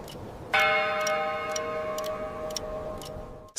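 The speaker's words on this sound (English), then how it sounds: "Cinderella suddenly heard a deep, booming chime." A clock strikes midnight with one deep chime that rings out and slowly decays, while a steady tick-tock keeps a regular beat behind it.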